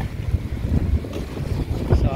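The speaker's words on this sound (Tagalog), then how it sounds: "Lakas ng hangin guys." Strong wind buffets the microphone outdoors during a family vacation in Agoo, La Union, with a steady low rumble and gusty bursts throughout, while a child rides a bike and another an electric motorbike nearby.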